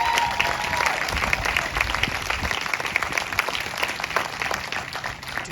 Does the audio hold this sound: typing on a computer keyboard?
no